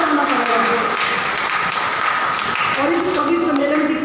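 An audience at a Hindi kavi sammelan poetry gathering breaks into sustained, dense applause and clapping that holds steady throughout, with a voice audible through the crowd noise.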